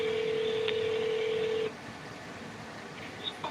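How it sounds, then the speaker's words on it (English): A steady electronic telephone tone holds for over a second while a call is being transferred, then cuts off. Faint line noise and a few short beeps follow. "Wait while I transfer your call."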